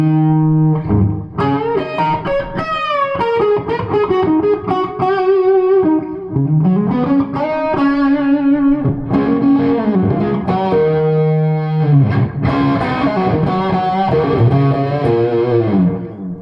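Electric guitar through a Gjika ADG asymmetric distortion pedal, loud close fuzzy overdriven notes and sustained bends played continuously with no talking.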